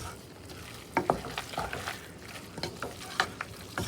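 Ground meat browns in a pan for taco meat with homemade taco seasoning, a low steady sizzle broken by irregular clattering scrapes of stirring, close and moderately loud.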